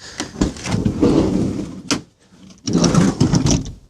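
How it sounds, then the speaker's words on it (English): The manual sliding door of a 2009 Honda Vamos Hobio kei van rolls along its track and thuds shut, a short burst of mechanical noise, then a brief lull and another rolling clatter. "There are manual sliding doors"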